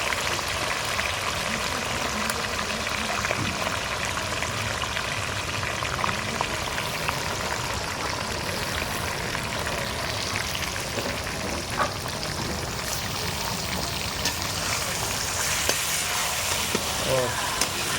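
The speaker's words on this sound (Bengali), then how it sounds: "এই যে ম্যারিনেট করা মাংসগুলো এবার উঠিয়ে উঠিয়ে অল্প অল্প করে তেলের উপরে ছাড়বো।" Marinated meat frying in hot oil, a continuous crackling sizzle with scattered pops and spatters, steady and close throughout, with occasional stirring clatter and a faint voice in the background.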